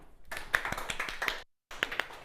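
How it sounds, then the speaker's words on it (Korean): Scattered applause from a high school chemistry class: a short burst of sharp, uneven handclaps, a brief silent gap, then a few more claps nearby. "박수!"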